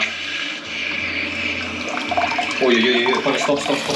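A bidet toilet sprays water in a steady, hissing rush that grows louder and more splashy toward the end, while a person talks over it.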